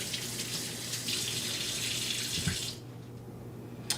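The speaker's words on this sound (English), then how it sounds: "it's always a good thing to rinse your hands down because you don't want that water going up your sleeves, up your arm" Tap water runs steadily over hands being rinsed at a kitchen sink during cooking, a close, even splashing that cuts off abruptly partway through, leaving quiet room tone.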